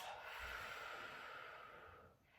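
A slow, steady breath out through the mouth during a Pilates back and joint care session, a soft close airy whoosh that gradually fades over about two seconds.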